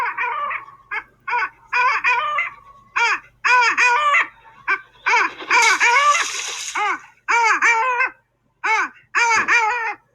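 A long-tailed duck calls over open tundra, a loud, clear series of yodelling, nasal honks repeated in quick rhythmic bursts with short pauses between, close and alone.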